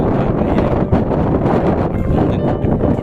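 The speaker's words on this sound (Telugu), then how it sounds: "చాలా గాలి తోడుతుంది" Strong wind roars and buffets continuously, loud and close, with no other sound standing out, high on Girnar mountain in Gujarat.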